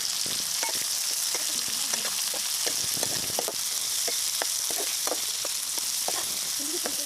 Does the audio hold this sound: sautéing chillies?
yes